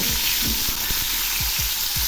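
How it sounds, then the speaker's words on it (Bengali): Cauliflower florets fry in hot oil with a loud, dense, continuous sizzle and crackle, close up, alongside a few low knocks, without any voices. "এগুলি এখন হালকা লালচে করে ভেজে নেব।"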